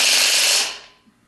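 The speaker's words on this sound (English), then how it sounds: "And then put it on with a torque wrench." A torque wrench tightens a crankshaft bolt on a 1976 Corvette restomod engine, giving one loud, close, rasping mechanical burst that fades out after about a second.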